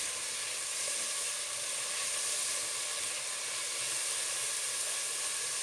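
Mushrooms fry in a pan for Turkish pasta with a steady, even sizzle that holds at moderate loudness from start to finish, with no voices over it.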